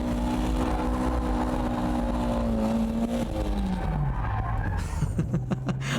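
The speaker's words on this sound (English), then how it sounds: "With these underpowered cars, you just have to keep the gas on to get it into power drift mode." An underpowered car is power drifting sideways with the throttle held down, its tires skidding and hissing steadily while the engine note holds and then sags lower. The car is close and loud, and no one speaks.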